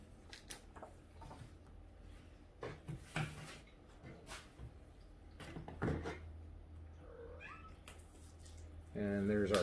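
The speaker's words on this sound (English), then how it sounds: "She's a very vocal cat." A kitten meows faintly a few times in a room, soft short cries under people talking and the rustle of handled items.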